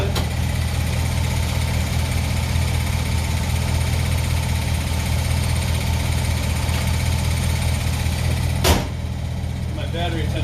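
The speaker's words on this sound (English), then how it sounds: "right now the compressor's running" An Accuair air suspension compressor running on a vehicle, a loud, continuous droning hum with a steady low rumble and no breaks, ending with a brief clunk near the close.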